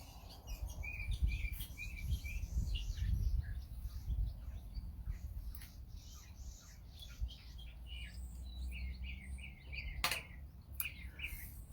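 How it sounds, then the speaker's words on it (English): Morning birdsong, many small birds chirping and tweeting in scattered bursts at moderate distance over a low outdoor rumble, with an occasional sharper close call. "birds are very active this morning"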